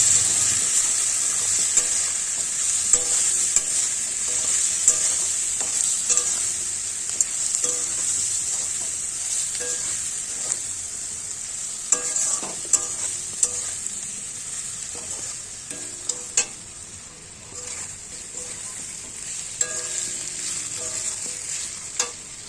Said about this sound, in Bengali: তারপর পরিমাণ মতন হলুদ দিয়ে আবার নাড়তে থাকুন